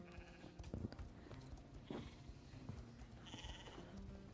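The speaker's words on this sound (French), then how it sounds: "Donc là, par exemple, c'est le mouton." Sheep bleat repeatedly in a video game, several wavering cries rising over a busy background of game sounds at moderate loudness.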